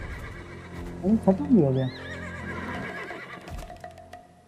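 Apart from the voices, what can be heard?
horses neighing in the video game Black Desert Online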